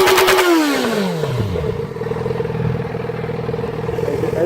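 Yamaha XJ6 motorcycle fitted with a Leo Vince bolt-on exhaust pipe, revving sharply up, then dropping back to a steady, throaty idle that rumbles on close by.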